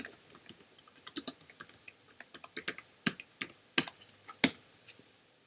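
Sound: typing on a computer keyboard to install Postgres with Homebrew

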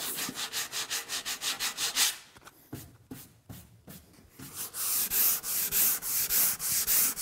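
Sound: hand sanding wooden boat hull over filled screw holes

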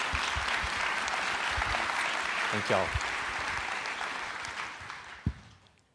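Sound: church congregation hand clapping

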